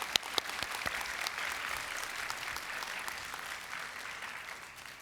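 Steady applause from the audience at a 2023 Come Back Kids East Valley graduation ceremony, a continuous wash of clapping that holds at an even level throughout and fades slightly at the end.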